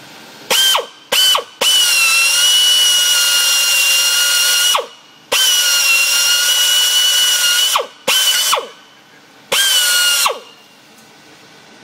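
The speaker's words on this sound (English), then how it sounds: "We're working on drilling this bolt out so we can get this water pump on today." Power drill boring out a stuck bolt on the front of a 1964 Mustang 289 engine while fitting the water pump, sounding in several loud sustained whining bursts of a few seconds each, separated by short pauses and brief starts.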